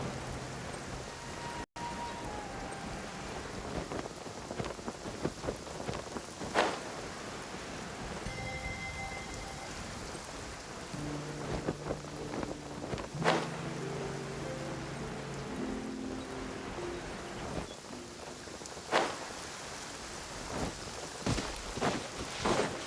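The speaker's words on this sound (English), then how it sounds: "Rain can be quite troublesome sometimes." Rain and thunder ambience in a video game: a steady, soft rain hiss with occasional low rumbles and faint scattered tones, fairly quiet throughout.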